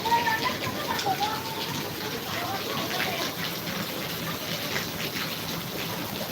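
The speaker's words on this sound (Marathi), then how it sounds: "फक्त भरपूर सारा पाऊस चालू आहे" Heavy rain pours down steadily, a dense, continuous hiss close by with no breaks.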